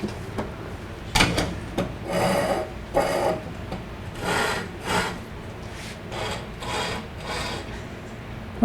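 Wood turning tool being sharpened on a grinder: a steady rasping, scraping grind with a low motor hum underneath, swelling and easing in repeated strokes as the tool is passed across the wheel.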